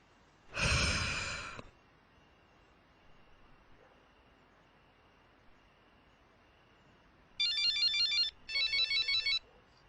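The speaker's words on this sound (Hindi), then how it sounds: "लो देखो तो, फिर सोते टाइम कॉल आ गई।" Incoming call ringtone on a phone, a loud electronic burst near the start, then two later pulsing ring bursts after a quiet stretch with faint breathing.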